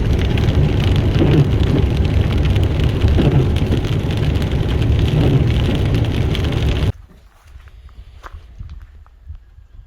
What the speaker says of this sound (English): It's been raining all day pretty much